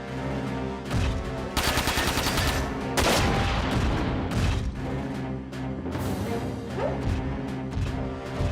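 Rapid-fire weapons shoot in the mech game Front Mission 4, with dense, loud bursts of automatic gunfire and heavy impacts hammering continuously in quick rhythmic volleys, and no voices over them.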